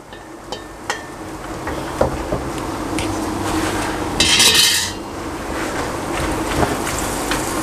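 Cooked noodles for prawn pad thai are tossed and mixed in a hot pan, giving steady frying sizzle, scattered metallic utensil clinks and a brief louder hiss of liquid near the middle.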